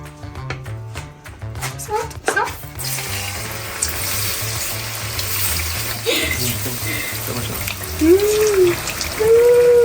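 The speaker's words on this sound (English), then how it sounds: "Now our oil is hot, so we're just gonna put our plantain in there." Plantain sizzles and crackles steadily in hot oil over medium heat, the frying hiss growing louder toward the end while background music plays throughout.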